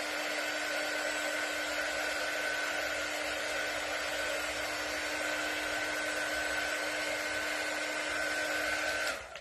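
Hair dryer blowing steadily on a carved base, a loud, constant whooshing whine with a fixed motor hum that runs unbroken for about nine seconds before cutting off; no talk.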